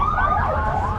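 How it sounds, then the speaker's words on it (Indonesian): An ambulance siren wails loud and close as it passes on the road between Majalaya and Cicalengka, its rising and falling tones sweeping over a low rumble of traffic. "Ada ambulan"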